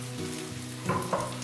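Broccoli, leeks and celery sizzle in a pan, a steady close frying hiss with a couple of brief louder bursts as the vegetables are stirred.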